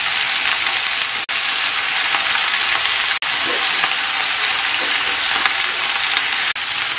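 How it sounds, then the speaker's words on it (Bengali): Red spinach leaves hitting hot oil in a frying pan give a steady, dense sizzle, broad and hissing like rain, with a few brief clean breaks, loud and close with no talking. "এখন আমি লাল শাকটাকে দিয়ে দিচ্ছি।"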